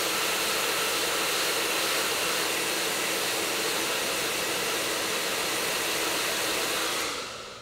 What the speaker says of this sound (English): take the blow dryer, and just start blow drying it